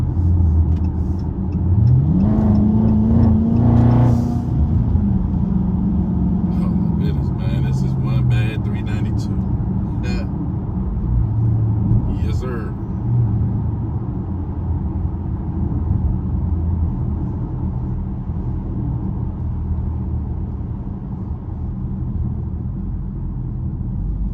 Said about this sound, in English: try to let y'all hear that engine purr again